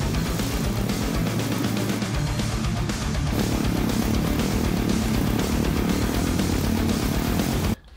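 Combustion engine of a 3D-printed aluminium drift trike held together with PLA printed bushings, running loud and steady with a dense rough drone before cutting off abruptly at the very end.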